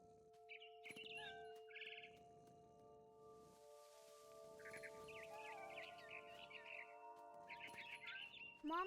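Bird chirps and tweets in the video game What Remains of Edith Finch, repeated short bright calls in scattered bursts over a soft steady tonal drone, fairly quiet.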